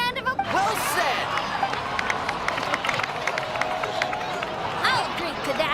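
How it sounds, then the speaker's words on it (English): Crowd cheering and clapping, a broad wash of applause with a few rising shouts, fairly loud and continuous, in the video game Genshin Impact. "So, please give another round of applause."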